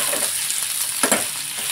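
Okra being stir-fried in a pan gives a steady close sizzle, with a couple of louder scraping stirs partway through.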